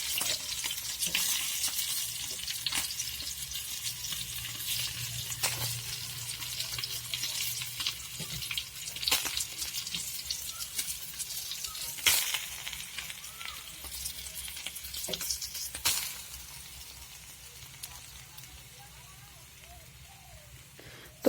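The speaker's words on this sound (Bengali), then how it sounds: "এভাবে আমি সবগুলো মাছ ভাজি করে নেব" Fish pieces fry in a pan, a soft crackling sizzle running under a voice with occasional sharper spatters, fading quieter toward the end.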